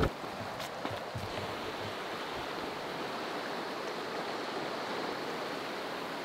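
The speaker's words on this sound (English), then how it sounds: "All right, we are at the river." A Canadian Rockies river flows in a steady, broadband rushing wash near a bridge, continuous and fairly loud, with a few faint knocks at the start and no voices.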